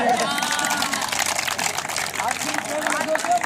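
Audience at a wrestling match clapping and cheering, a dense crowd roar with applause running steadily throughout under a loud voice.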